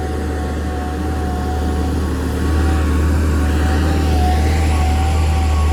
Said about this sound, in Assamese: বৰ বেলেগ এটা চাউণ্ড দিছে ট্ৰাকখনে